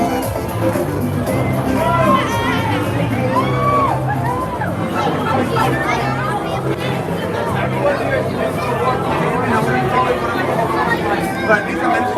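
A large, excited crowd fills Super Nintendo World at its opening, a dense, steady hubbub of overlapping chatter with children's shouts and occasional whoops rising from the throng.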